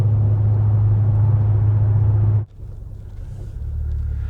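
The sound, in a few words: Ford Focus ST car driving on road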